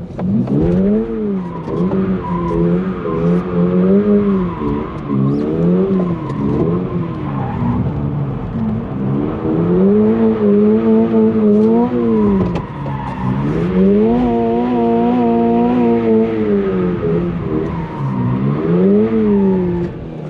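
Stock Toyota GR86 being drifted, engine revving up and down in repeated rising and falling sweeps with tire squeal, loud and continuous over about twenty seconds with no talk.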